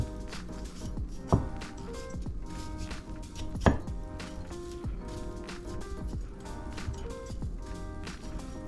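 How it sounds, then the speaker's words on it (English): A knife chops jalapeno pepper on a board in steady, close, crisp strikes, with a couple of sharper knocks standing out. "Chop the spicy jalapeno boy."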